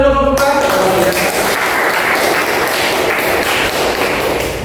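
A classroom of students applauding a group, dense loud clapping from many hands that fills the whole stretch without pause.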